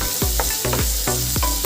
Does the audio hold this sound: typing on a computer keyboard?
no